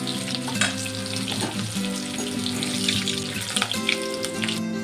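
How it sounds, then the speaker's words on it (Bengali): Potatoes fry in oil with turmeric powder, giving a steady, fairly loud sizzle that runs through without a break. A constant tonal hum sits underneath, and no one speaks. "সামান্য একটা হলুদ গুঁড়ো দিয়ে দেবো দিয়ে আলুটাকে ভেজে নেব"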